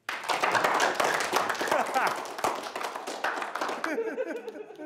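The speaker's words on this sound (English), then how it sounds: "Well, how about a clap?" A group of young men clapping at a rugby school gathering, a dense burst of hand claps that starts abruptly and carries on for about four seconds, mixed with voices and cheering before it thins out.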